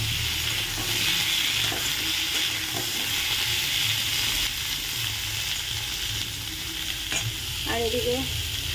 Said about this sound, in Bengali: এদিকে কালো জিরে ফোড়ন দিয়ে পটল আর আলুটাকে প্রথমে ভেজে নেব